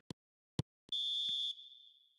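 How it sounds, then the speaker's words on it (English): In the eFootball video game, a referee's whistle sounds for half-time: two short chirps, then one long, shrill blast that fades out, clean and alone with no talk. "And the whistle goes for half-time."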